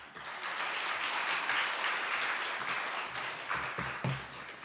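Church congregation at a semester-opening worship service applauding to welcome a guest pastor to the pulpit, dense steady clapping from many hands that holds for several seconds and then thins toward the end.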